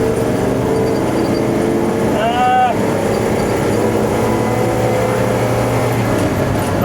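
A 1967 Ford F600 truck driving in third gear, its engine a steady, continuous drone heard from inside the cab under heavy wind and road noise, with a brief chirping squeal partway through.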